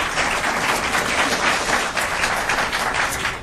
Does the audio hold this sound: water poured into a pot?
no